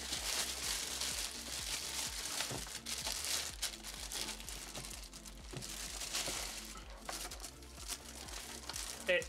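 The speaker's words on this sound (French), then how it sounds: "Donc on va déballer ça." Packaging around a Thrustmaster T500 RS racing wheel crinkles and rustles nonstop as it is unboxed, a dense, close and steady crumpling with a few sharper crackles.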